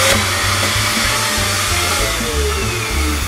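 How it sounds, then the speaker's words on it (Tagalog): A TurboVac vacuum cleaner with blower runs steadily and loudly up close, a continuous motor whine and airflow roar with a faint pulsing underneath, no voices over it. "Now let's try turning on this vacuum."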